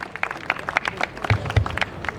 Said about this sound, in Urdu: ایک مرتبہ پھر پرزور تالیاں ہونی چاہیے